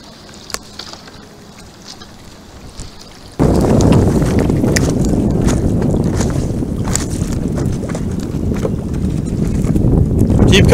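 A small boat is paddled through open water outdoors, with steady loud splashing and wash starting a few seconds in and running continuously, over a quieter wind-buffeted opening.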